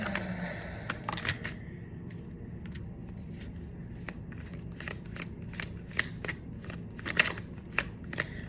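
Tarot cards being shuffled near the listener, a continuous papery riffle broken by sharp card slaps and taps, carrying on alone with no talking.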